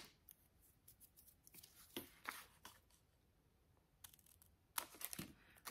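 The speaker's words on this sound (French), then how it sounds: "et là, je vais couper" Scissors snip through paper while trimming page edges for a handmade notebook magazine, quiet, close crisp cuts in short irregular bursts.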